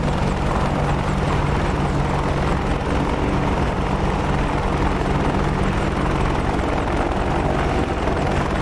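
A video game helicopter's steady rotor thrum and engine whine drone loudly and continuously, with no voices, the dense low pulsing filling the whole stretch.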